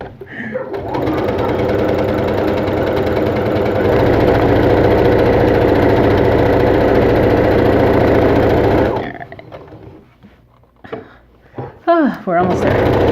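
A sewing machine runs a long scarf seam in one loud, steady, close whirring stretch of about nine seconds, then stops, followed by quiet handling and brief talk.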